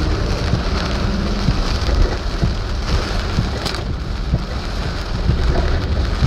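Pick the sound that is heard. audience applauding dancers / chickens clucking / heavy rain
heavy rain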